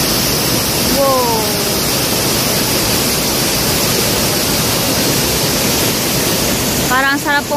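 Mimbalot Falls waterfall roars in a loud, steady, broadband rush throughout, with brief voices and a whistle-like call rising over the water noise.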